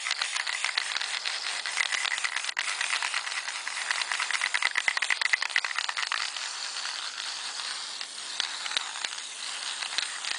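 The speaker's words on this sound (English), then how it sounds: "I have to shake up the can really good." Spray lacquer aerosol can being shaken hard, the mixing ball rattling in quick continuous clicks at close range, with a faint hiss throughout and no talk.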